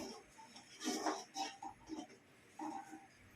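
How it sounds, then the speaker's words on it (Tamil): A pot of thick garlic kuzhambu curry bubbles on the stove, giving off a few irregular soft plops and gurgles up close, fairly quiet, with no talking. "குழம்பு நல்லா கொதிக்குதுப்பா"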